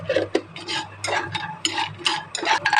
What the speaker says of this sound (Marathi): बदाम चांगले रोस्ट करून घेते आणि यात घातले अक्रोड